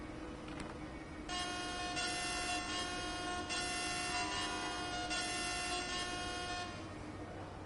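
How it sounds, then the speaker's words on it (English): Locomotive horn in the train simulator Train Sim World 5, a sustained harsh multi-tone blast with a few brief breaks, heard over a steady low rumble of the train cab, with no voices. "This horn sounds terrible."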